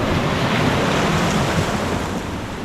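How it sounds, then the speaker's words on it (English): Storm waves crash and wind roars on a Jamaican shore during a tropical storm, a dense, continuous wash of surf and gusting wind buffeting the microphone close up, with no voices. "Enough wave and splashing."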